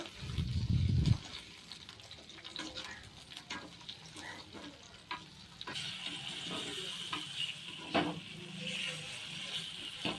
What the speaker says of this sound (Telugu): కరివేపాకు వెల్లుల్లి అయితే వేసేసాము వేసేసి ఫ్రైకి చేసుకోవాలి బాగా వాడనివ్వాలి